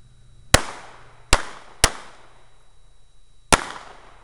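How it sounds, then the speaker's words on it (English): Four sharp gunshots ring out at a target range during hostage-target shooting practice, spaced irregularly with short decaying echoes, loud and close, with no talk in between. "Good shot, JR."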